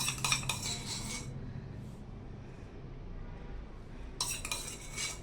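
A spoon stirring jaggery and ghee in a pan, with bright metallic scraping and clinking in bursts at the start and again at the end, separated by a quieter stretch of low background noise.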